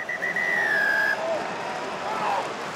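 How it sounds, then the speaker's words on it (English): A referee's final whistle at a Gloucester Rugby Gallagher Premiership home match, one long sustained blast followed by a shorter, fainter toot over crowd noise and a commentator's voice. "is the final whistle"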